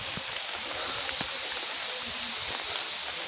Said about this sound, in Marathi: आता पाऊस खूप जोरात आला आहे